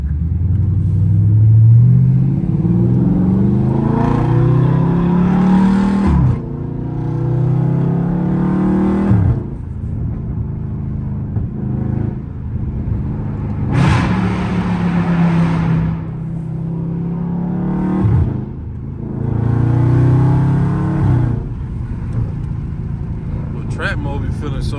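A Dodge Scat Pack car in track mode, engine loud and close, revving up and dropping repeatedly through downshifts with deep rumbling pulls, voices talking over it at times.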